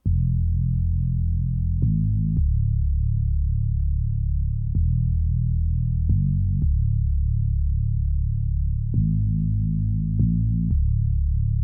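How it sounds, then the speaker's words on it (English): A deep, droning Sytrus synth sub bass in FL Studio, with an octave unison pitch, holds a sustained low tone, with brief higher chord stabs breaking in at intervals over the continuous rumble. "it kind of gives that sub bass low end atmospheric kind of sound"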